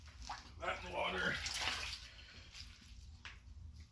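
A rag dunked into a container of water while cleaning a Mustang headlight makes soft splashing, sloshing and dripping sounds close by, with a burst of louder swishing in the middle of the clip.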